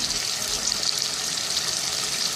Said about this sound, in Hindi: अब मैं इसमें दही डाल दूंगी।